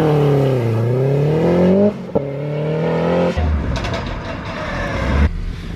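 Metro car fitted with a K20 engine making over 500 bhp, revving hard and rising in pitch, then snapping through quick gear changes with sharp cuts and crackling exhaust, loud and close.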